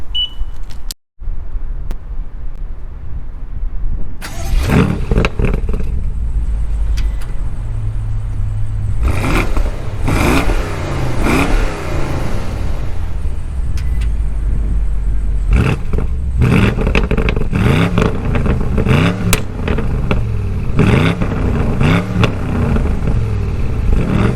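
A 2023 BMW M850i Convertible with a V8 on the move: a steady low engine rumble with several rising revs and shifts, heard from inside the car and loud throughout.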